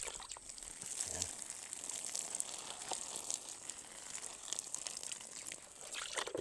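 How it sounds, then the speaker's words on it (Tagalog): Water splashes and trickles faintly onto pechay plants in a garden as they are watered, a soft, continuous patter with small crackling splashes, quiet throughout. "Magdidilig tayo ngayon ng ating pichay."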